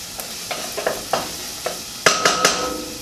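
Garlic fries gently in a pan for marinara sauce, a soft sizzle broken by a handful of scraping stirs and metallic taps of a utensil against the pan, close by, with no talking.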